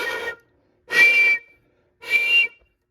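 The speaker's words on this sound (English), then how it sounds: "So I found out what was making the whistle noises." Broken PCV system on a BMW X5M engine giving three sharp whistling bursts, each about a third to half a second long, evenly spaced with silence between, close and clear.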